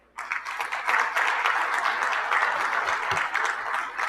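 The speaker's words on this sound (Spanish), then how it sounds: "Démosle un fuerte aplauso, por favor." An audience at a technical session on infrastructure resilience bursts into strong applause, sustained dense clapping that holds steady for several seconds with no voices over it.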